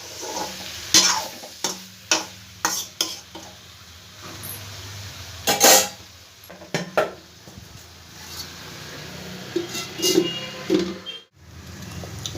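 Dal with soybean cooking in a pot on a medium gas flame, with repeated metal clinks and scraping of a spoon against the pot over a soft sizzle, and no talk.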